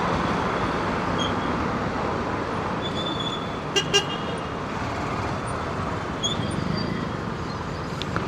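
A brief double honk of a car horn cuts through steady evening traffic noise on a Pune road, heard from a motorbike, with fainter horns in the distance.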